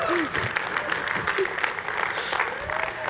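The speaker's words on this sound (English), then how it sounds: "but an applause is even better." A conference audience at a tech developer event claps in a moderate burst of applause, with some voices and murmurs mixed in beneath.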